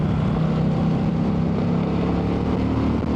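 2024 Indian Challenger motorcycle accelerating onto a highway, a dense, loud engine drone mixed with wind rush, steady throughout with no talk.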